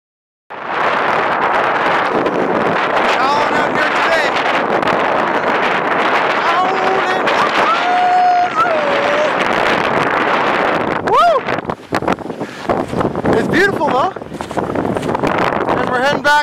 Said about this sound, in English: Look at how much that wind is decreasing just by coming ashore here.